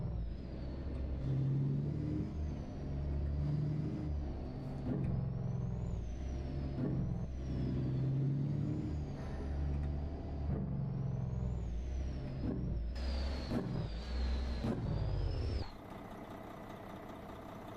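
A heavy truck engine in American Truck Simulator drones and revs, with repeated rising and falling whines and hisses from the air brakes, loud and close, before a quieter idle at the end.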